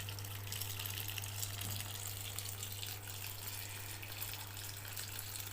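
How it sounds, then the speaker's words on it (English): A fully automatic washing machine draws in water for its rinse cycle, a steady rushing inflow with a constant low mechanical hum underneath, continuous and fairly faint throughout. "so it's rinse and then it will spin and it's filling with water"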